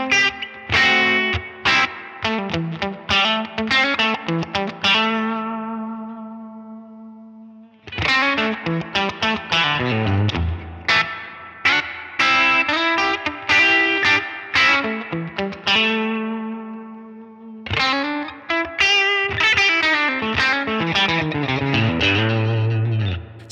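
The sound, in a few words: guitar through big Helix reverb setting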